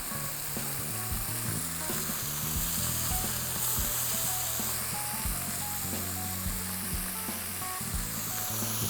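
Pork chops sear in a hot pan with a loud, continuous sizzle and crackle, close by, with occasional clinks and scrapes of stirring underneath.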